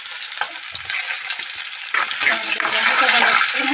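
Chopped onions dropped into hot oil with whole cumin in a pan for a rajma and paneer dish, giving a close, steady frying sizzle that swells louder after about two seconds, with a brief stirring clatter.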